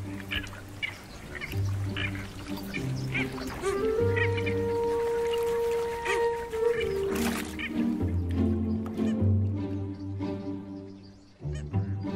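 Eurasian coots calling on the water in winter, a run of loud, nasal honking and quacking notes in uneven bursts, close by and with no voices.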